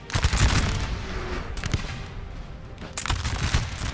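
Russian artillery and musket volleys from a Napoleon Total War battle boom in dense, continuous rumbling bursts, with sharper blasts rising at intervals over a constant roar of distant fire.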